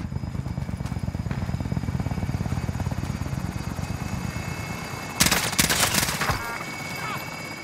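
Helicopter in the video game Warzone, a continuous rhythmic rotor thump heard close, broken near the end by a short burst of loud gunfire.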